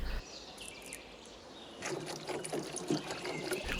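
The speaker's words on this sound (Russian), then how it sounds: "Наливаю воду для того, чтобы помыть руки и умыться." Water is poured into a washbasin at a forest campsite: quiet at first, then soft, uneven trickling and splashing begins partway through and continues to the end.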